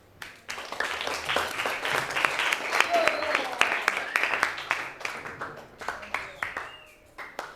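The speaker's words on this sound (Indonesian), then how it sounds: "Kasih aplaus dulu buat temanmu." Students in a biology classroom break into a burst of applause for a classmate, a dense clatter of clapping that swells, then thins into scattered claps, with a few voices in the background.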